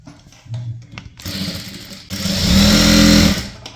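A sewing machine stitches a folded hem of cloth for a zip nighty in short bursts that build to a longer, loud, steady whirring run, heard close up with no voices.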